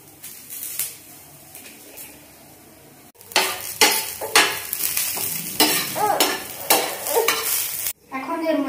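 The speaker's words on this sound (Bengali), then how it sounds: "শক্ত সবজিটা আগে একটু ভেজে নেব।" Hard vegetables fry in a pan with capsicum about to go in, sizzling steadily while a utensil scrapes and stirs in repeated bursts, loud and close, with a brief quieter stretch before the stirring picks up.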